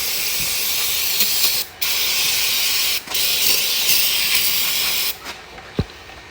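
Aerosol brake cleaner sprays in bursts onto a Ram ProMaster City transmission area, a loud, steady hiss broken by two brief pauses before it tapers off, with a few clicks at the end.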